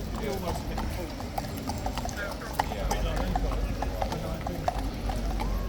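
Several Horse Guards horses' hooves clip-clop steadily on pavement, a busy overlapping rhythm close by, while someone talks over it.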